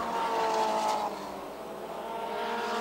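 Race cars pass in front of the grandstands at a Granby stock-car race, with one engine sweeping by loud then fading into steady distant engine drone from the rest of the field.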